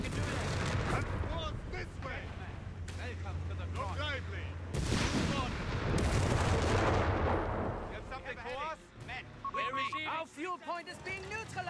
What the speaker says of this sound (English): Small arms fire! Too much of it!